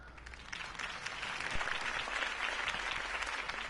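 Sustained applause from a large crowd in a video game, Batman: The Telltale Series, steady and dense clapping that swells slightly and holds throughout.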